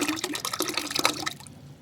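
Water sloshing and splashing in a bucket as homemade organic fertilizer for a terrace garden is stirred in, a short burst of close, irregular liquid sounds that trails off.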